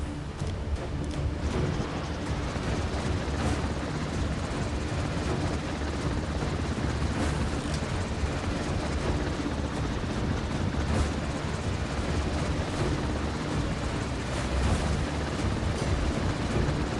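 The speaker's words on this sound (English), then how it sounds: "Helicopter ready for launch." A helicopter launches from a warship in the mobile naval combat game Warship Mobile, its engine and rotor roar forming a loud, steady, dense wash that continues unbroken with no talk over it.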